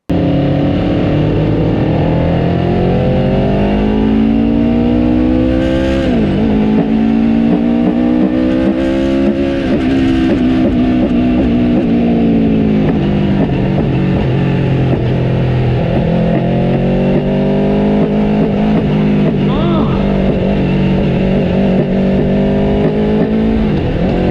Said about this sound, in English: You just have to listen to what the bike is going through